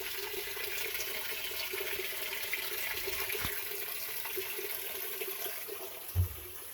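Water pours steadily into the tub of a 2003 Whirlpool Gold Ultimate Care II direct drive washer, a constant faint rushing hiss with a couple of soft low thumps near the end.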